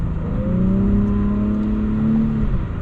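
Acura TLX Type S accelerating uphill on a snowy road, a loud continuous engine drone with rising whining tones from inside the car, steady throughout.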